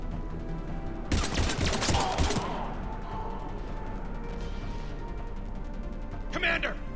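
Gunfire in Mass Effect 3 erupts in a dense, loud burst of rapid shots lasting about a second, followed by rumbling combat noise, mechanical clanks and another short burst, with voices speaking throughout.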